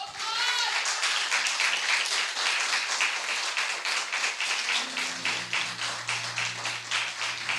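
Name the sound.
congregation clapping hands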